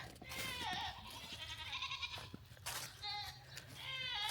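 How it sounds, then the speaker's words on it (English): Goats bleat repeatedly and impatiently just before feeding time in a farmyard garden, several drawn-out wavering calls overlapping, fairly close, with a person talking between them. "I apologize for the goats. It's almost feeding time for them."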